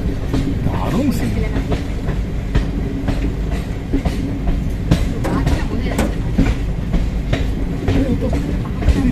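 The Amaravati Express runs on rails through hilly country toward a hill station, giving a loud continuous rumble with rhythmic clickety-clack of wheels over joints and occasional sharp metallic knocks.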